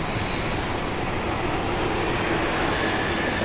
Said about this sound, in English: I think we got flight 2080 here, 737-700, pointing its nose towards Oakland, California.